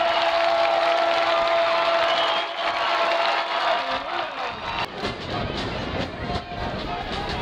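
Home stadium crowd at a Southeastern Louisiana football game against South Dakota State swelling into cheers after a Lions touchdown, a broad roar that rises and surges with scattered claps over a steady background drone.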